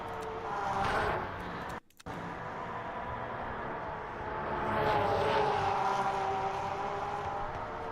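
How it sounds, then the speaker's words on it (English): Porsche 992 race car in the Le Mans Ultimate sim racing game, engine droning steadily off throttle with a tonal whine that swells as the car passes near, broken by a brief drop-out. "This car off throttle sounds so good."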